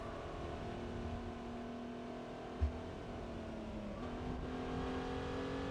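Simulated car engine in Gran Turismo 4 drones steadily at constant revs with a slight pitch dip and recovery, a brief thump partway through, no talking.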